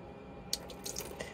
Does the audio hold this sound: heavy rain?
no